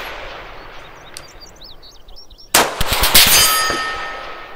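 A rifle fires at a 600-yard target on a range, one sharp, loud crack cutting through wind noise and followed by a ringing metallic tail.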